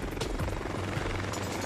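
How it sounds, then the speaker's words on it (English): Three Boeing CH-47 Chinook helicopters taking off from a military camp at dawn make a steady, loud, low rotor thrum with a continuous rumbling drone throughout. "3 Boeing CH-47 Chinook helicopters take off from Waterloo Camp."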